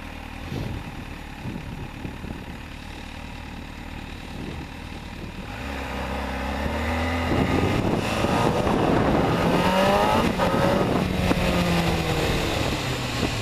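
A 2009 MV Agusta F4 1078 RR in stock form ridden through traffic, its engine droning steadily and then rising louder with climbing revs and wind rush midway, no talking.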